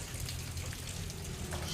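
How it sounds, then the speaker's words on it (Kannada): Light drizzle falls outdoors in a village under cloudy skies, a soft steady patter of scattered drops over a low rumbling background, with no voices. "ಮಳೆ ಬರೋದಿಲ್ಲ ಅಂತ ಅಂದ್ಕೊಂಡೆವು ಆದರೆ ಮಳೆ ನೋಡಿ ಬರ್ತಾ ಇದೆ"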